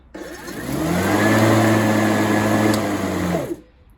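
A discarded electric battery lawn mower with a repaired wheel starts up and runs, a steady loud whirring motor hum that rises quickly, holds for about three seconds, then cuts off abruptly.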